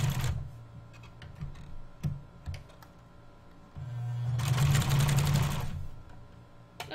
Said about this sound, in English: we hope that my sewing machine doesn't hate me today